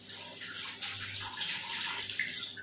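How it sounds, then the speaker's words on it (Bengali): Water running from a tap while fish is washed in a home kitchen, a close, steady gushing stream that continues unbroken throughout. "চলো ঝটপট করে মাছটা ধুয়ে নিই"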